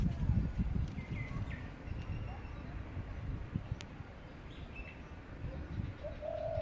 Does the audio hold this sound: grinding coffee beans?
no